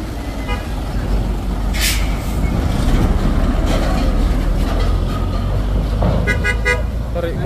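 Orange Fuso dump truck on a steep hill road: a low diesel engine rumbles steadily close by, with short horn toots near the start and end and people talking over it.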